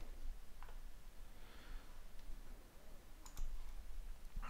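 A few light computer mouse clicks, faint and spaced apart, over a low steady room hiss.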